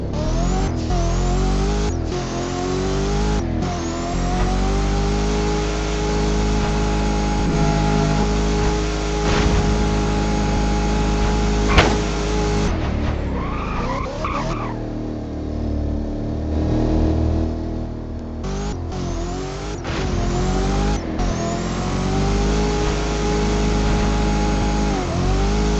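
A car engine revs hard and roars close by, climbing and falling in repeated surges with a brief dip midway before building again, loud and alone with no talk.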